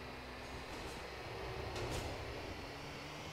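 A subway train rumbles beneath a bridge in GTA IV, a low, faint and steady rolling drone with a couple of brief metallic squeals partway through.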